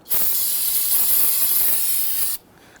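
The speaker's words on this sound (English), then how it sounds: "using some spray solvent" An aerosol can of solvent sprays onto a brake caliper on a 2011-2023 Dodge Charger in one continuous, loud, close hiss lasting over two seconds before cutting off abruptly.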